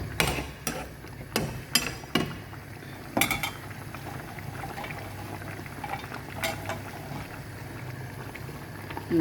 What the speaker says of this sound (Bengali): এখন এই গরমে এই টমেটোটা সিদ্ধ হয়ে যাবে